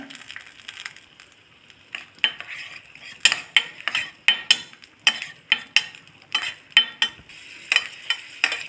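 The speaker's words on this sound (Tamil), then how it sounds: "இதில் இருக்க மிச்ச நெய்யில் திராட்சையை வறுத்துக்கலாம்" Raisins frying in leftover ghee while making creamy sago payasam, heard as repeated sharp stirring and scraping clicks in a steady rhythm over a soft sizzle, close and moderately loud, with no talking.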